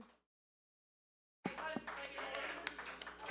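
A saloon crowd at a live show in Westport starts clapping after a moment of silence, scattered hand claps building into a loose round alongside chatter and music.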